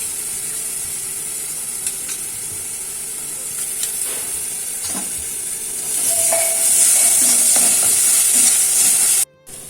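Ginger and green chili paste fries in oil with turmeric for a Bengali tangra fish curry, a close, bright hiss that swells louder midway as stirring continues, then cuts off abruptly near the end.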